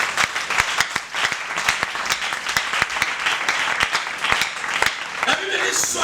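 A church congregation bursts into sustained applause, many hands clapping in a dense, lively patter with voices calling out over it, filling the room at close range.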